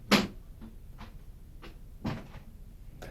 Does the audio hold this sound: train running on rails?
no